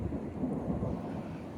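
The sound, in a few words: thunder echoing between mountains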